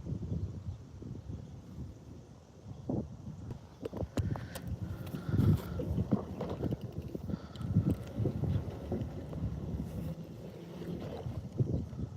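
Wind gusts over a small fishing boat while bass fishing, a steady low rumble of wind buffeting with irregular knocks and bumps against the hull and gear throughout.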